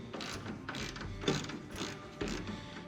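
A ratchet works a bolt out of the side tailgate hinge on a 1999–2007 Chevy Silverado, giving rhythmic clicking strokes at close range, quiet and without talk.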